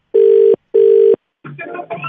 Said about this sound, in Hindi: मैं फोन कर रहा हूँ आपके हस्बैंड